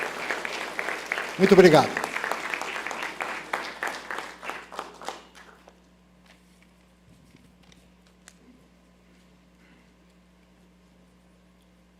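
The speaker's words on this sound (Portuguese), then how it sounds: "É com muita honra e alegria que eu peço uma salva de palmas para o nosso homenageado" An audience at an awards ceremony gives a strong round of applause for an honoree, peaking early and fading out over several seconds. Brief speech follows in a quiet room with a faint steady hum.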